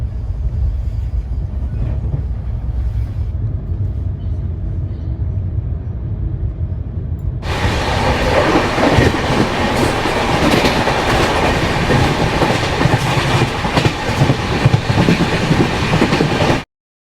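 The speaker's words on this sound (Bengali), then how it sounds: "আর এখানে কিন্তু ট্রেন কিছুক্ষণ দাঁড়াবে, কারণ জল টল ভরছে দেখছি।" At New Bongaigaon junction a passenger train sits while water is filled, a low steady rumble, until a loud broadband roar of rolling wheels and clatter swells up abruptly about halfway through and carries on to the end.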